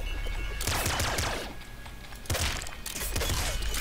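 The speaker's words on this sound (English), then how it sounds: "That's a Bouncer SMG." Bouncer SMG gunfire in a video game: dense rapid bursts of shots, loud and close, broken by a short lull before firing resumes.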